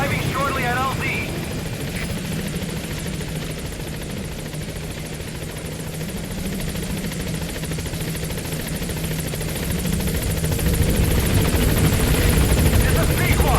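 The Pequod helicopter in Metal Gear Solid V, arriving at a landing zone, makes a constant loud rotor drone that swells slightly toward the end.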